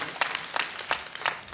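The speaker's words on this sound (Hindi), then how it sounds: "एक बार ताली से आप इजाजत दो," An audience at a Hindi comic poetry recital claps in a few sparse, rhythmic bursts, fairly faint and spaced about a third of a second apart.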